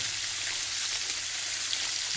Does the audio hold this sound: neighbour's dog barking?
no